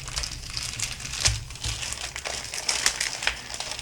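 Taped packaging of a Tamiya 1/32 de Havilland Mosquito FB Mk.VI model kit is opened, giving close, continuous crinkling and crumpling of tape and paper with a few sharper tearing bursts and no talk.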